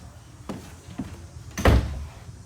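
A solid door on a 2021 Forest River Rockwood Ultra Lite 2883WS fifth-wheel RV makes a few light knocks and then closes with one firm, close thunk.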